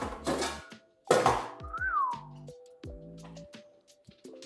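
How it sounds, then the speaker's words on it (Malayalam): Beef going into a preheated pan, with sharp clattering bursts of meat and utensil against the pan, followed by short metallic scrapes and a rising ringing tone as it settles, close and unaccompanied by talking. "സോ നമുക്കിനി ബീഫ് ഇടാം"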